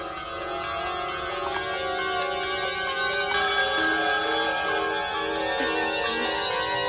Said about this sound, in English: Let it ring. Don't answer it.